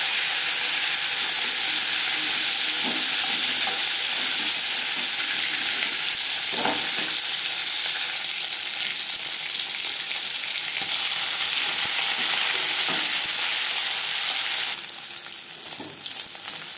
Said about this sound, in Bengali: মাছ একটা সাইড ভাজা হয়ে গেলে